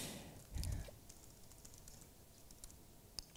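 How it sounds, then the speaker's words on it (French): Light, scattered keystrokes tap on a computer keyboard at a conference talk, faint and uneven, with a thump near the start and a single sharper click toward the end. "je galère sur le clavier"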